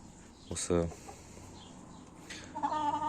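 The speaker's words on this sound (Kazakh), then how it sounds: "Міне осы 5 тауық келдік." Domestic chickens cluck in short bursts at close range, with a louder squawk early on and softer clucking near the end over low background noise.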